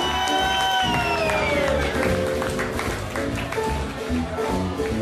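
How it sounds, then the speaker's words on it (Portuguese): An audience at a blues festival applauds and cheers in a loud, continuous wash of clapping and shouts, with a voice and a sustained musical tone sounding over the crowd. "Quero pedir uma salva de palmas especial para Mr. Jefferson Rosa Paz"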